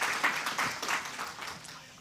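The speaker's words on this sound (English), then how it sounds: "Round of applause for guys from Nielone" Audience applause at a food-tech startup demo day, a steady wash of many hands clapping that fades gradually over about two seconds.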